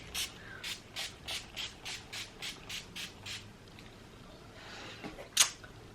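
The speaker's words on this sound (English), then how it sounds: "I like to spray my Collection Primed and Ready matte fixing spray" A rapid series of about a dozen short, evenly spaced bursts of matte setting spray onto a face, fairly close, followed by a pause and one sharper hiss.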